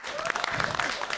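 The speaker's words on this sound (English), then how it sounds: "Please give me a big round of applause." Applause from the audience at an African stage show event, with steady close clapping and a few voices calling out over it.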